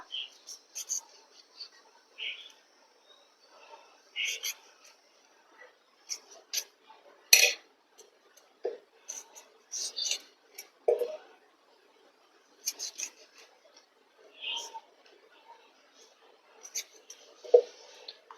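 A lemon is sliced into quarters with a knife while making Kerala-style lemon juice, giving sparse, irregular crisp cuts and knife taps on a board, close and fairly quiet with pauses between strokes.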